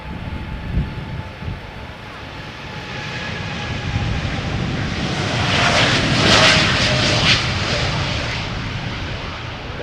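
An Air Canada Boeing 787-9 Dreamliner takes off from Schiphol's Polderbaan runway, its engine roar building and peaking midway with crackling rumble and a faint tonal whine, loud and unbroken by talk.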